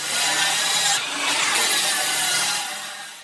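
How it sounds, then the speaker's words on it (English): A miter saw cutting down wooden boards to equal size for a box-style mailbox build. It makes one loud, close, continuous cutting whine with a brief surge midway, and no talk. "Then I'm cutting down the other sides on my miter saw so that they're all the same dimension."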